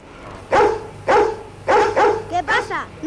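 A small cartoon dog in an animated series yaps in a quick string of short, sharp barks, close and loud, coming in uneven bursts with brief gaps between them.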